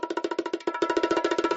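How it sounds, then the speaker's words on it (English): Bongo drum effect from a streaming soundboard, a quick, bright run of hand-drum hits in a steady rhythm, with a brief pause and then a faster flurry of strokes. "We have bongo drums."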